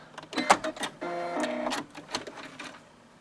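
A sewing machine stitches a bar tack across hammock webbing, running in short mechanical bursts with a steady motor whir through the middle as it goes forward, reverses and locks the stitch; close and fairly loud, with no talking.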